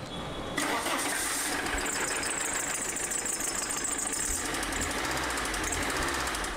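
A faulty car engine cranks briefly, catches, and settles into a steady, rough idle that runs on unbroken and close by.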